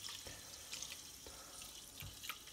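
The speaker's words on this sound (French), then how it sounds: "vous mettez de l'eau jusqu'à là" Tap water pours steadily from a kitchen faucet into a bowl of sushi rice, a continuous splashing hiss with soft gurgles and small surges as it fills, close and alone without voices.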